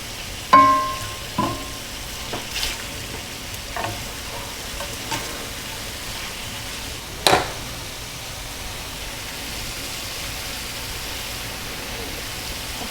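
Shrimp sizzle in a hot pan as a steady, close frying hiss, broken by a few brief clinks and stirring knocks early on and one sharper tap midway, with no voices.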